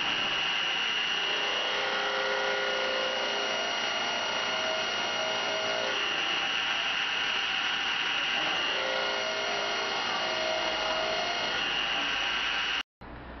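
A drill bores into wood with a Forstner bit, a loud steady whine lasting over ten seconds that dips and rises in pitch as the bit is raised and lowered, then stops abruptly.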